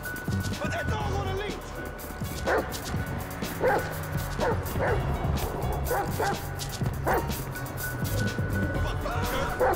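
Chop, a dog in Grand Theft Auto V, barks and yips repeatedly in short irregular bursts, loud and close, mixed with whimpers under shouting voices and faint traffic noise.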